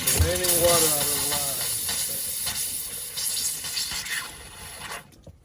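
Compressed air hisses and sputters through a Fun Finder camper's water line during winterizing, starting with a gurgling burst as remaining water is pushed out, then settling into a broad steady hiss that fades and cuts off.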